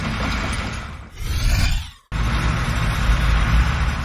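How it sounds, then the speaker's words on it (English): A concrete mixer truck runs loudly close by with a dense engine and drum rumble, broken by a short whooshing sweep and a sudden cut before the heavy noise resumes. "Concrete mixer."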